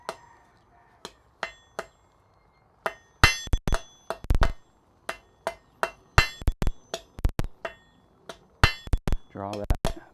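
Blacksmith's hammer striking hot metal on an anvil while drawing out a taper in a smithy, a series of sharp ringing blows in uneven bursts with brief pauses between groups.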